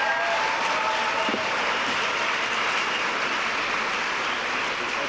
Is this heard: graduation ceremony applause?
yes